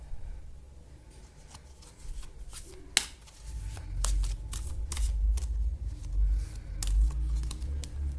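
Tarot cards shuffled by hand in a quiet room, a steady run of crisp riffling and slapping card sounds with sharper snaps at intervals over a low soft rumble, no talking.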